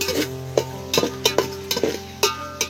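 Onions being stirred in a pan for vegetable pulao: a soft sizzle under repeated scraping and clinking of a spoon against the pan, in quick irregular strokes.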